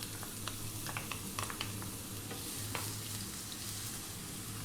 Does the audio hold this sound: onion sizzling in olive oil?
yes